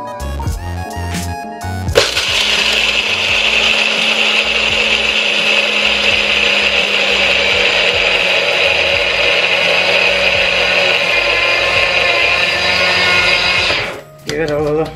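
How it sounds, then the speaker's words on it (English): Nutribullet blender grinding peanuts into butter, a loud steady motor whine with a grinding rattle, sustained for about twelve seconds after a short clatter, then briefly cutting out and restarting near the end. "now it's time to grind the peanuts. This is the first time I'm using a Nutribullet."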